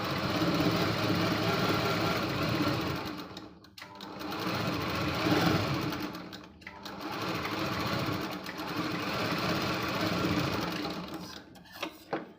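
Sewing machine stitching tucks into a blouse, running in long continuous bursts of steady whirring with short pauses between runs, close and fairly loud, with no talking.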